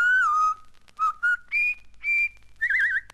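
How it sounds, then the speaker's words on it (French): Someone whistles a few phrases of the River Kwai march, close and clear, in short bright bursts with brief gaps, ending in a warbling trill. "Siffle la rivière Kouaï."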